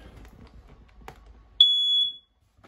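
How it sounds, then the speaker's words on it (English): A smoke detector in a 2022 Wildwood 22RBS travel trailer gives a single sharp, high-pitched beep lasting about half a second, clear and close after some faint rustling. "right above my head here, you get your smoke detector"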